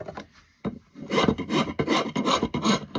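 A rasp files bulk wood from a hickory axe handle in steady, close back-and-forth strokes, a brief pause early on before the rough scraping settles into a regular rhythm.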